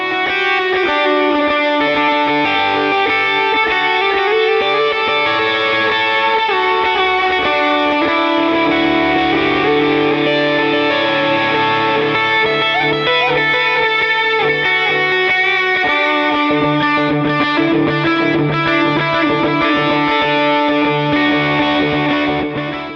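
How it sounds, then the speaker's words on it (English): An electric guitar through a King of Tone overdrive on a Line 6 HX Stomp plays with warm overdriven distortion, strummed chords and sustained notes ringing continuously, loud and upfront, with no talking. "King of Tone overdrive, after amp and cab blocks"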